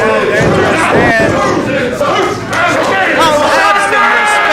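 A wrestling crowd at a live show chants and yells insults at the wrestler called the Sultan, a dense, loud, continuous roar of many voices with a rhythmic chanted edge throughout.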